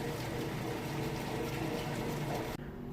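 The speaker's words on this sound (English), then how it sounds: "So we'll wait for that now to go through the rinse cycle and then come back for that final spin." A Maytag washing machine in its rinse cycle, a steady, loud wash of running water and machine hum that cuts off abruptly near the end, leaving a quieter drone.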